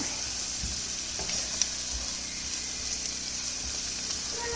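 Ginger garlic paste is stirred into onions sautéing in a pan for a fish roe stir-fry, producing a steady close sizzle with occasional soft thuds and scrapes of the spoon.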